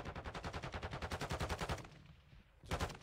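Rapid automatic gunfire in the Warzone 2 video game, a loud sustained burst of evenly spaced shots that stops, then a second short burst after a brief pause.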